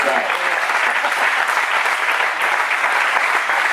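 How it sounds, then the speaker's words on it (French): Steady, lively applause from an audience at a karting team awards ceremony for a second-place finish, continuous clapping throughout. "vous pouvez applaudir pour cette deuxième place"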